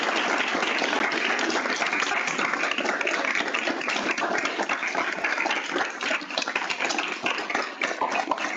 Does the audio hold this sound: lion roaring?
no